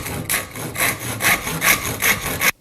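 A hand saw cuts through the top of a wooden axe handle in about six quick, even back-and-forth rasping strokes, close and clear, ending abruptly.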